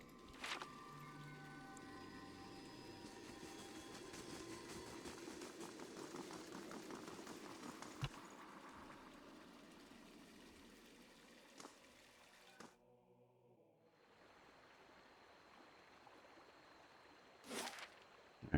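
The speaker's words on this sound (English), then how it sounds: "we have this wall of water here, which is called the Vale of Tears" A wall of water in the fantasy game Pillars of Eternity: a quiet, steady rushing and bubbling wash that fades into near silence partway through, then gives way to a few soft splashes.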